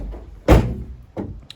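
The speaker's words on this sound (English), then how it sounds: "Do also have the benefit of a side loading door." The side loading door of a white 2013 Fiat Doblo 1.3L diesel van is worked, giving one loud, close thunk followed by a second, softer thud a moment later.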